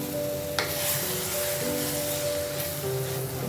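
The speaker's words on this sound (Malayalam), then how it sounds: "ഇനി നന്നായി ഒന്ന് ഇളക്കി കൊടുക്കണം" A spoon scrapes and rubs steadily through mackerel fish curry, cooked without coconut, as ground tomato and garlic paste is stirred in, with a soft sizzle beneath the close, continuous stirring.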